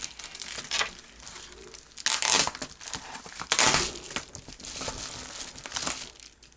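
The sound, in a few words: tearing open a packet of membership stickers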